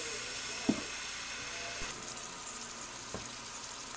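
A steak sizzles steadily in a big grill pan, a constant close hiss with a few sharp clacks of tongs, no one speaking.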